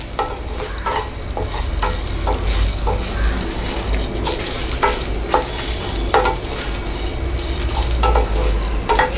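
Onions stirred into roasted lentils in a hot pan, a spoon scraping in steady repeated strokes over a continuous close sizzle, with no voices.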